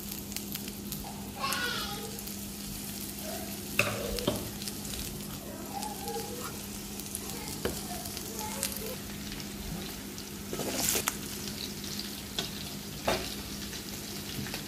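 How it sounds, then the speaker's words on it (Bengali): Two small hilsa (jatka) fish fry in oil on a tawa, giving a soft, steady sizzle with occasional crackles and light clinks of a utensil against the pan. "ওই ঝাটকা মাছ 2 পিস সেটা ভেজে নিব"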